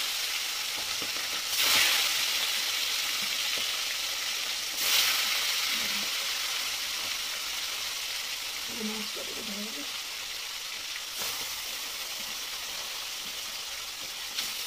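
Fish frying in hot oil in a home kitchen, a steady broadband sizzle throughout with a few louder bursts as pieces hit the oil, plus brief quiet voices in the background.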